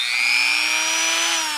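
A Dremel rotary tool sanding a turned wood piece gives a steady, high-pitched whine with a gritty rubbing edge, close and continuous throughout, with no speech.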